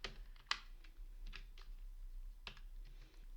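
Soft, irregular clicks of typing on a computer keyboard, a handful of quiet keystrokes with small pauses between them over a low background hum, with no talking.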